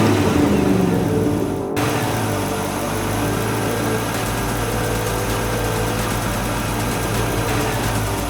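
Cartoon race vehicles in a Peppa Pig race roar off the line together, a loud rumbling engine drone that drops briefly then settles into a steady, busy whir of motors.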